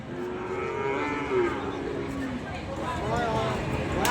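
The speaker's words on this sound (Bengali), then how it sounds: "এ পাশেও আরো সুন্দর সুন্দর বলদ আবাল গরু আছে" Indian bullocks at a busy cattle market give long, low moos, one after another, close by, over a constant murmur of crowd voices.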